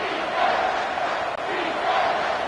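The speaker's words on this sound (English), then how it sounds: "Decibels rising as the crowd gets behind this defense on third down." A College Football 25 stadium crowd roars in a steady, swelling wall of cheering during an Ohio State vs Michigan game on a third-down defensive stand, loud and sustained with a brief dip midway.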